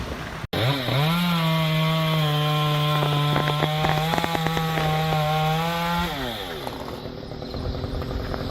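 A chainsaw bites into an old tree trunk, its engine holding a loud, steady high-pitched snarl for several seconds after a rising rev, then winding down, close and alone.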